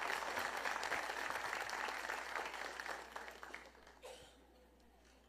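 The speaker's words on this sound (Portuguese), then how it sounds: "Vamos aplaudir a Jesus pela vida do pastor Renan." A church congregation applauds, a dense burst of clapping that holds steady and then thins and fades away into quiet near the end.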